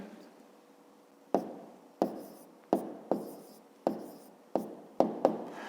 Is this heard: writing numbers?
yes